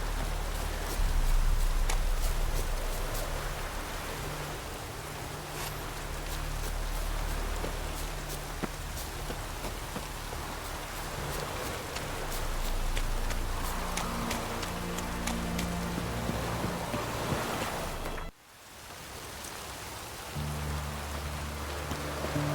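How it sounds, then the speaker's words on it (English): Rain falling steadily as a dense, loud hiss of drops on surfaces, continuous for the whole stretch with a low background drone and a brief dip near the end. "No use doing any work in this rain."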